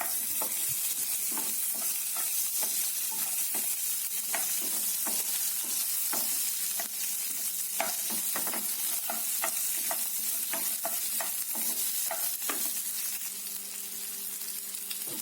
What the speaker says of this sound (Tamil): சின்ன வெங்காயங்களை 2 நறுக்கி வச்சுருக்கேன். அதையும் சேர்த்து நல்லா வதக்கிக்கலாம்